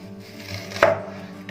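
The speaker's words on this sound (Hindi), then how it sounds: "और ये इसी दूसरे प्याज के भी इसी तरह रिंग बना लेंगे। इसी तरह काटना है" A single knife stroke slicing through an onion into rings on a cutting board, one sharp close chop amid a low steady background hum, no talking.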